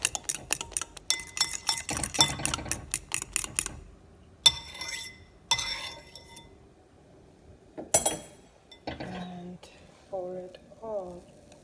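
Omelette ingredients with spinach and black pepper being mixed, a utensil tapping and scraping fast against a bowl in close bursts, broken by pauses, quieter clinks and a voice talking near the end.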